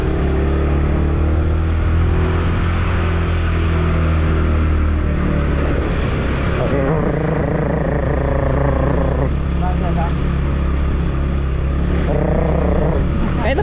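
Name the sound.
motorcycle ride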